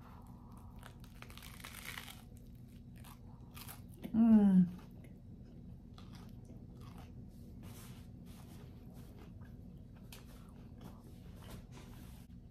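Someone takes a single loud, crunchy bite of a BBQ chicken salad sandwich with onions and celery, a half-second crunch standing out from an otherwise quiet room with a brief murmured sound.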